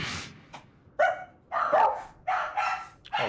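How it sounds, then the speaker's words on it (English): A dog barks in several loud, close bursts, short yelps building into longer strained barks with brief pauses between them, heard alone without talk. "Oh god, please don't start barking now"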